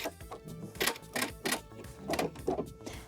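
A sewing machine back stitches at the end of a slot seam, giving a quick run of rapid mechanical clatters in short uneven bursts, close and fairly quiet.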